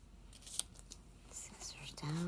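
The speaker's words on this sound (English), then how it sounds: "Cut tape." Scissors snip through tape up close with a few sharp, quiet clicks, accompanied by soft rustling, as a voice briefly starts to speak at the end.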